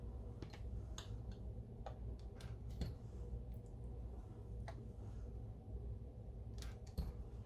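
A blade trims the edges of rolled-out black polymer clay in a quiet sequence of sharp little ticks and clicks, spaced irregularly, close and faint over low background hum.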